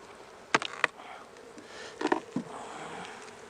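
Honeybees in an opened overwintered hive, a few short bursts of close buzzing rising above a soft steady hum, with quieter stretches in between.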